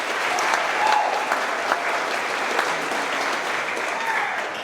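A crowd at a trucking company's monthly celebration breaks into loud, continuous applause and cheering that fills the whole stretch without letup.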